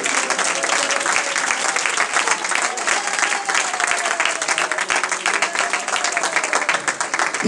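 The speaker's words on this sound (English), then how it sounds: "Oh, let's clap our hands to the Lord." Church congregation clapping their hands together in worship, a dense, steady wash of many hands applauding continuously and fairly loud, with faint voices mixed underneath.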